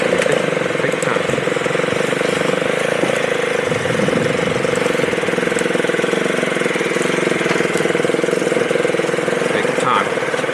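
A dirt bike engine runs continuously up close at a resort trail, a loud steady buzzing drone with slight revving, while voices talk intermittently over it.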